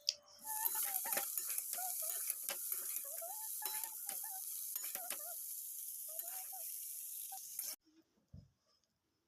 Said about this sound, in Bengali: ব্রোকলি রান্না হচ্ছে আজকে